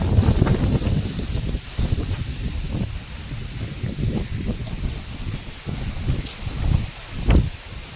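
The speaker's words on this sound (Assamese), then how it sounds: "এতিয়া বতাহ চাওক আপোনালোকে" Strong, sudden gusting wind during a storm that arrived after rain, roaring as broadband rumble with bursts and rustling through trees, loud and close with buffeting on the microphone.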